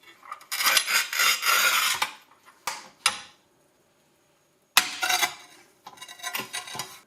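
A Parkside manual tile cutter scores a ceramic tile about 8 mm thick with gritty rasping strokes, a couple of sharp clicks, a short silence, then more scraping passes, close and fairly quiet.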